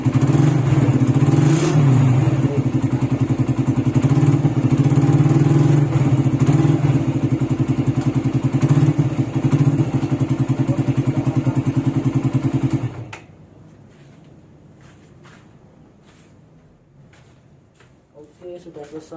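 A Suzuki Satria FU motorcycle engine runs loud and steady with a throbbing low hum and a slight revving rise, then cuts off abruptly, leaving quiet clicks and faint handling noises.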